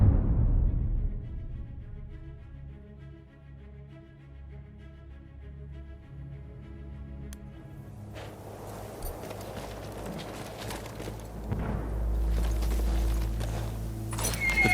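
Horses in the Battlefield 1 video game whinny and neigh, then clip-clop hooves build up over a rising background of movement and rumble, moderately loud throughout.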